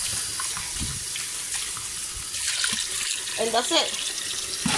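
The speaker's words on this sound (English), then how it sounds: "so I'm just gonna rinse it with water" Tap water runs steadily into a bowl in a kitchen sink as it is rinsed, a continuous close splashing flow with a short spoken phrase over it.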